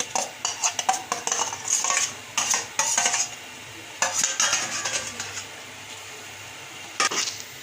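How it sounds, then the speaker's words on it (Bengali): Chopped vegetables with ginger and garlic stirred in a pot for chicken vegetable soup, a spoon clinking and scraping in quick bursts over a soft sizzle, close up, pausing briefly between strokes. "এই ভেজিটেবলগুলো একটু নেড়ে চেড়ে নিব"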